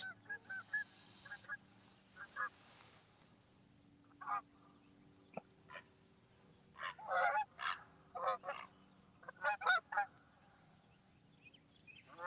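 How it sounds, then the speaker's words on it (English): Canada geese fly overhead during a fishing trip, honking in scattered single calls and then tight clusters of calls, fairly distant over quiet open air. "Got a couple of Canadian honkers going over."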